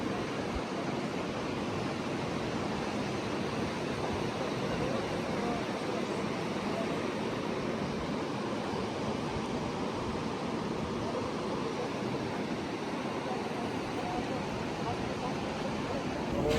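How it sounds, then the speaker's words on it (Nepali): A rising river in a severe flood gives a constant, loud broadband roar of rushing water that stays steady throughout, with voices faintly audible over the torrent. "यतिखेर देख्न सकिन्छ पानीको बहाव हेर्दा हेर्दै नै बढ्दै नै"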